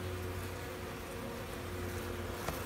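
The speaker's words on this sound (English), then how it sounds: "The reason these bees don't sting is because I'm not inside the hive." Honeybees buzz around a honeycomb outside the hive in a faint, steady drone, with no voices.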